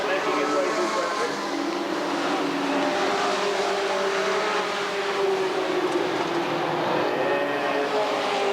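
Sportsman race cars roar around Redwood Acres Raceway during a 1991 main event, a dense, continuous wash of engine noise with cars sweeping past while an announcer talks over it.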